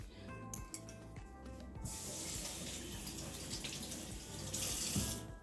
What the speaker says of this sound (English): Gonna run the water on this right quick.